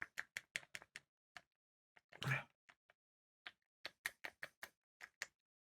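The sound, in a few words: stirring paint in a flimsy plastic cup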